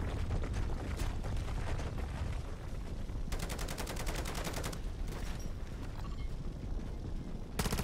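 Automated turrets in a zombies video game fire continuously, a loud, dense stream of rapid shots with faster buzzing bursts layered over the steady barrage.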